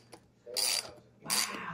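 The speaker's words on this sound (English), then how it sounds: "I'm going to put my socket wrench" A socket wrench ratchets on a gear puller pulling a stuck wheelchair tire, two short bursts of close clicking a half second apart, with a faint tick before them.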